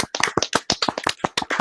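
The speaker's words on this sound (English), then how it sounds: "Applause for my friend." A single person clapping for a guest on a live vinyl-collecting chat stream, about a dozen sharp, close claps in quick uneven rhythm, loud and dry with no talk.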